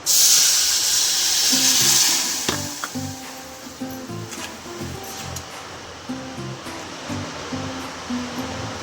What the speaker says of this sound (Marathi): आणि असा पाक तयार करायचा साखरेचा।